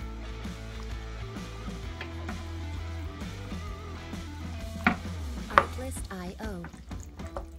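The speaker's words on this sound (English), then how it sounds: "we're gonna give it a stir" Chili gets stirred in a crock pot, with a spoon scraping and sloshing through the thick mixture in soft repeated strokes and a couple of sharper clinks against the pot, under quiet background music.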